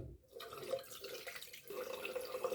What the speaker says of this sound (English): I'm gonna just wash and we'll see what we have left on the brush